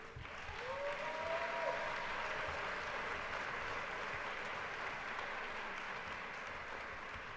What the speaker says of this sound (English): we ought to give them an applause for what they do